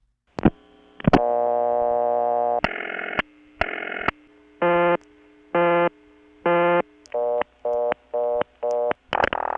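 Telephone tones from a Bell number 355 step-by-step office in Kent, Connecticut, 1980: clicks, a long steady dial tone, then short repeated tone bursts with gaps, close and clear.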